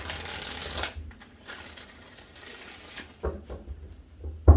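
Tarot cards are shuffled in a couple of quick riffling bursts, with softer rustling and handling between them, close and fairly quiet.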